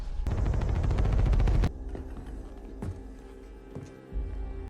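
Burst of rapid gunfire from the horror film Knock at the Cabin, a loud dense rattle lasting over a second, followed by a few sharp isolated cracks over a tense background.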